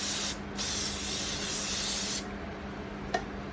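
Makeup fixing spray hissing from a pump bottle in two bursts, a short one then a longer sustained mist, followed by a faint click near the end, close and fairly loud.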